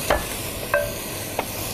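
Diced potatoes are stir-fried in a wok, with three brief scraping strokes of the spatula over a soft, steady sizzle and no talking.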